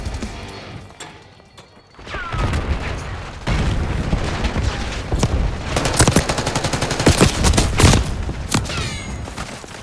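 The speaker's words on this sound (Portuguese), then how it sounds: "matei dois na granada" Grenade blasts and rapid gunfire from Call of Duty Black Ops 6 on the small, chaotic Shipment map. Sparse crackling at first, then dense, loud bursts of shots and booms packed together.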